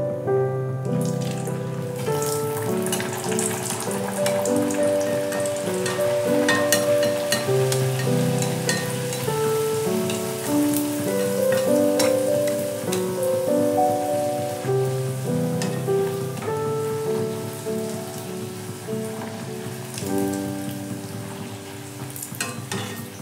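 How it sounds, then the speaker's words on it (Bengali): Pea-stuffed kochuri deep-fry in hot oil for a Durga Puja Ashtami meal, with a continuous bubbling sizzle running under melodic background music for the whole stretch. "এইভাবে আমি প্রত্যেকটা কচুরি ভেজে নেব।"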